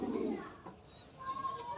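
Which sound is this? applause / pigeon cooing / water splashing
pigeon cooing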